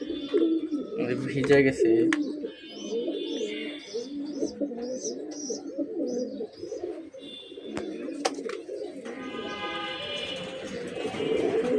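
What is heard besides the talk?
pigeons cooing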